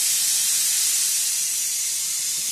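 A pressure cooker whistle vents steam in a home kitchen, a loud, continuous, even hiss that holds steady throughout.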